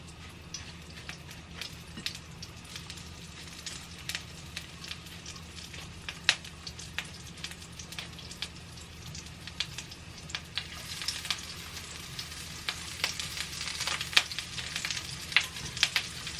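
Chickpea falafel patties fry in hot oil, a steady crackling sizzle with scattered sharp pops that grows busier toward the end, with no talk.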